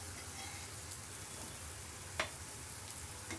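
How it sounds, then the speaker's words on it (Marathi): Crispy semolina-coated potato slices fry on medium heat in a pan, producing a faint, even sizzle with one brief sharp tick partway through. "आपण मच्छी जशी फ्राय करतो तसे हे काप फ्राय करायचे."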